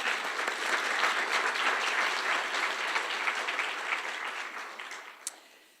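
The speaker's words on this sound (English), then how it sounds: "Give yourself a round of applause" An audience at an assembly breaks into a sustained round of applause, dense and even, holding steady before tapering off toward the end, with no voices over it.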